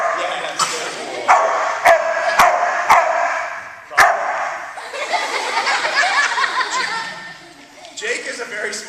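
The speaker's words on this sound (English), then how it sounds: "Jake is a very smart dog" A trained dog barks repeatedly during a trick show at a school, with sharp yips and woofs among sharp claps, chuckles and people talking over a lively indoor crowd.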